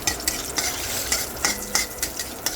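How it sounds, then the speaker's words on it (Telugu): Dried red chillies, curry leaves and dry coconut fry in a pan with a dense crackling sizzle and rhythmic spoon scrapes about twice a second, up close and without talk. "ఇది ఇప్పుడు ఫ్రై అవుతుంది కదండి."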